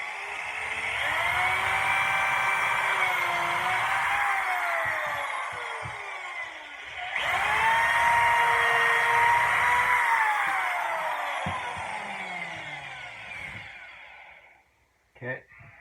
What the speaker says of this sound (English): So I'm going to go ahead and pre-drill this.